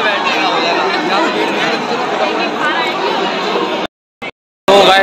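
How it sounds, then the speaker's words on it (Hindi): Dense, steady crowd chatter fills a packed Guru Nanak birthday festival gathering, a loud continuous babble of many voices, cut by a sudden near-silent gap before the hubbub returns. "तो इस भीड़ में मैं बोल नहीं पाऊंगा, बिल्कुल मेरी आवाज़ नहीं आ पाएगी"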